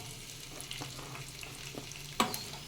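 Chopped onions, green chilies and curry leaves fry in hot oil with a low, steady sizzle, a few soft stirring scrapes and one sharper clack near the end.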